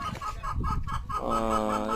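Hens clucking nearby after heavy rain, with chicks caught in flooded ground, a run of short choppy calls followed by a steadier, drawn-out cackle.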